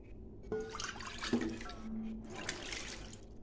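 Water from a rinsed bowl poured into a cooking pot of potatoes and green chillies, a brief splashing pour heard up close followed by soft liquid settling, with no talking.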